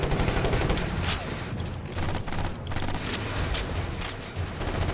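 Dense, sustained gunfire in the video game Ghost Recon Advanced Warfighter 2 on PS3: rapid overlapping shots and bursts that fill the whole stretch at a loud, steady level.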